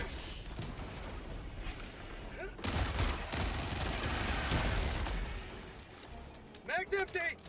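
Automatic gunfire in a video game rattles steadily for several seconds, a dense sustained burst that stops abruptly as the magazine runs dry, followed by a few sharper clicks and knocks.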